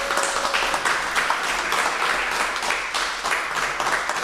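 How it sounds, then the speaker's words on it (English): A historical society audience gives a round of applause for a speaker, a full sustained patter of clapping from a room of people, fairly loud and close, with faint murmurs underneath. "how about one last round of applause for Diane Lapis?"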